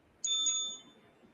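A small bell gives a single clear, bright ding that rings out and fades within about half a second, heard close and alone against a quiet background.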